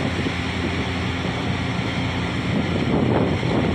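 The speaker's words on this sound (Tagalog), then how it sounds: "Kaya, pakyat na yung alon." Sea waves and wind heard from a fishing boat out on the water, a continuous loud rush of surf and wind buffeting the microphone with no speech, swelling slightly toward the end.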